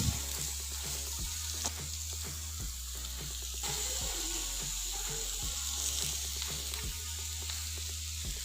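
Beef tawa boti sizzles loudly and steadily on a hot tawa after lemon juice goes in, with dense continuous crackle and occasional scraping stir sounds throughout.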